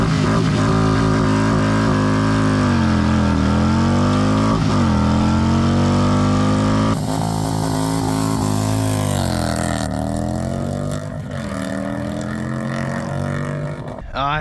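Harley-Davidson Road King motorcycle accelerating hard from 0 to 100, a loud close engine roar climbing in pitch through several gear changes.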